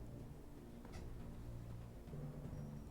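A small cat meows indoors, faint and brief against a low hum, with no talking.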